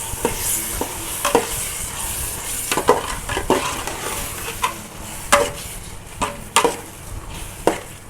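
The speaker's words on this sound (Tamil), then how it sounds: "இப்போ அதோட கொஞ்சம் தயிரும் சேர்த்து நல்லா வதக்கிக்கலாம்" Onion and yogurt sizzle in a pan for pea pulao while a spoon scrapes and knocks against it in irregular strokes, close by and fairly loud.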